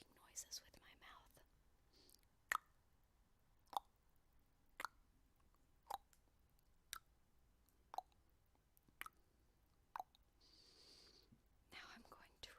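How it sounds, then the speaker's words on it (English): Sharp, isolated mouth clicks pop at a loose, roughly regular pace, close to the microphone over a very quiet background with faint whispering between them. "Now I'm going to make random clicking noises with my mouth."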